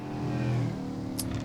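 A 1997 Subaru four-wheel-drive rally car engine revving in the WRC 10 rally video game, a brief loud, steady engine drone with a faint rising whine, no voices.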